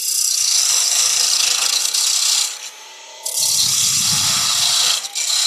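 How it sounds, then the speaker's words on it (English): A parting tool cuts into wood spinning on a lathe, giving a loud, steady broadband scraping rasp that runs most of the time, eases off briefly in the middle, then resumes with added low rumble. "So, got my parting tool."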